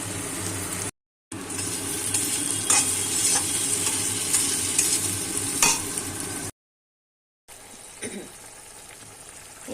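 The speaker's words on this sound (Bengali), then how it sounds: "এইটা দিয়ে আমি এখন মশলাটা কষে নেবো তার মধ্যে আলু দেবো" Masala is stirred and fried with potatoes in a pan for a spicy kachki fish dish, giving a loud steady sizzle with repeated spatula scrapes, cut by two short silent gaps before a quieter stretch of stirring.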